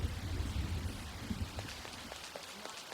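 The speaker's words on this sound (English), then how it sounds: "Oh no, rain?" Rain falls steadily in the Persona 5 Royal video game, a dense hiss of drops with a low rumble early on that fades, leaving scattered patters on surfaces.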